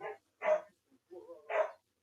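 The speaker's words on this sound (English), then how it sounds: "You guys will hear the two dogs barking on the background" Two dogs bark in short separate bursts, a few clear barks with gaps of silence between them, moderately loud and slightly off in the background.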